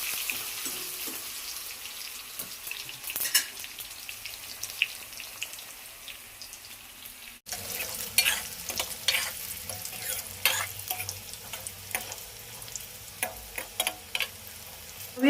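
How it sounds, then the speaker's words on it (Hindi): Besan gatte fry in a kadhai as they are stirred slowly, giving a continuous close sizzle with frequent scraping and ticking spoon strokes, louder and busier in the second half. "अब इन्हें चला दूंगी धीरे धीरे, अब ये फ्राई होते रहेंगे।"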